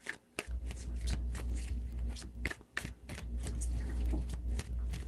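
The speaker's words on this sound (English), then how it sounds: "3 shuffles." Tarot deck shuffled by hand at close range, a continuous papery riffle with sharp card slaps and taps breaking through every second or so.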